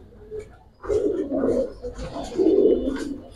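Giribaz pigeons at a loft give soft, throaty coos in a couple of rolling bursts, close by and fairly loud, with no talk over them.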